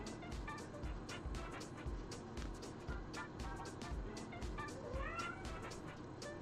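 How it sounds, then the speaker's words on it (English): A kitten meows loudly and repeatedly, a rapid series of sharp, insistent cries close to the microphone, some rising into drawn-out yowls, over a steady indoor background. "Kitten's yelling."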